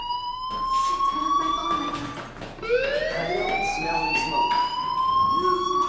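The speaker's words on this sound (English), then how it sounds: "Hey, do you hear that fire alarm?" A fire alarm sounds inside the game Life is Strange, a loud rising electronic tone with stacked harmonics that repeats in sweeping wails, continuous and close throughout.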